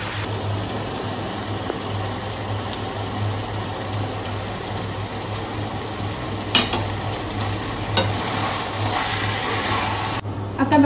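Chicken sizzling steadily in hot oil in a pan as tomatoes and chillies go in, a constant frying hiss with a low hum and a couple of sharp clinks.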